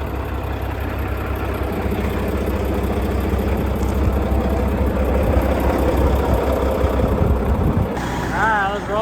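A Mack truck engine of about 550 horsepower idles with a deep, steady rumble, close by and fairly loud, with a few clanks and a short squeak near the end.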